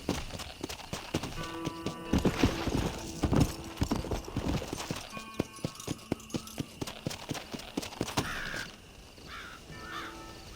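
Steady clip-clop of horse hooves from the Western game Red Dead Redemption, a rhythmic trot of clear close hoofbeats that runs for several seconds before easing off, with birds cawing in the background.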